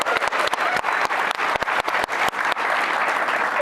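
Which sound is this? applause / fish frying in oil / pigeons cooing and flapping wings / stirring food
applause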